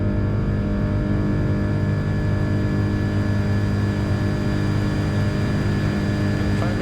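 Air Greenland Airbus A330 on its takeoff roll at Copenhagen, a loud steady engine roar and rumble with a low droning hum heard close from inside the aircraft, continuous and unbroken throughout.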